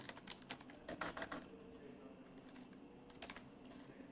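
Computer keyboard typing while filling in a hostel booking form, with bursts of quick keystrokes near the start and end and a quieter gap between, faint and close.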